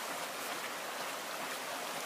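Steady rushing and splashing of water through a stream-powered pump's water-air splitter outdoors, a continuous dense hiss with no breaks.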